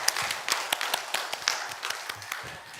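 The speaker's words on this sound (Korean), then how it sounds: "하나님께 영광의 박수를 드리겠습니다." A church congregation applauds in scattered, uneven claps that stay moderately quiet and fairly close throughout.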